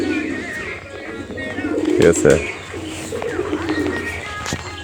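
Healthy, active pet pigeons coo repeatedly close by, soft throaty calls over a steady low hum, with a short spoken phrase partway through.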